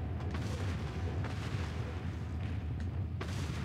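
Distant, muffled gunfire and low booms from Resident Evil 4, faint against a steady low rumble, with a few sharper reports toward the end.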